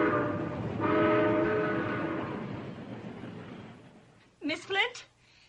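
A train horn sounds two short blasts near the end, following a stretch of low rumbling and indistinct voices.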